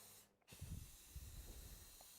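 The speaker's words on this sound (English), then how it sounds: "notice I start the spray just away from the job, and I keep spraying until I'm gone past the edge" A spray gun hisses steadily, close and continuous, as it lays a gloss finish over a resin table, starting after a brief pause and holding an even airy rush.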